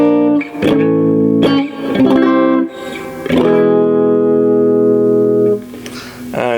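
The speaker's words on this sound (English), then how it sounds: "that is a lot higher output, and that's got a nice humbucker sound to it" Electric guitar on a Rocket Special through a Marshall, played on the bridge humbucker pickup, with a few picked chords that ring out loud, full and sustained at close range.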